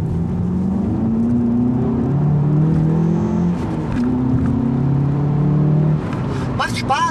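Engine of a VW Polo GTI revving and pulling hard, a loud sustained drone that rises and falls in pitch for about six seconds before easing off, with faint squeaks at the end and no talk.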